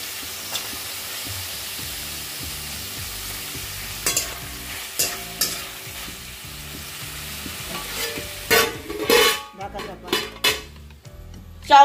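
Sliced capsicum and onion go into a pan with braised chicken and are stir-fried with a spatula. A soft background sizzle sits under repeated metallic scrapes and clanks that grow busier and louder toward the end.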